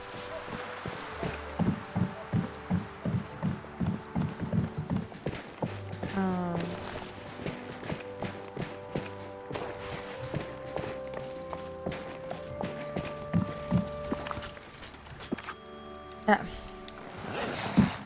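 Rhythmic hoof clip-clops from a horse walking in Dreamlight Valley, steady and close, with scattered clicks and game effects layered over them.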